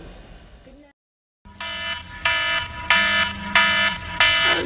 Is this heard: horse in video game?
no